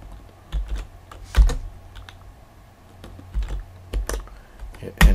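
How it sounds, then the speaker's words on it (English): A computer keyboard is typed on at a terminal prompt: several separate, close keystrokes in an irregular rhythm over quiet room noise, a few landing harder than the rest. "So let's type crypto."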